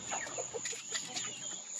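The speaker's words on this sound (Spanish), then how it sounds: "Y miren el pato. El pato va subiendo con los pollos" Chickens clucking softly nearby as a duck walks up among them, a few short, quiet clucks over light background noise.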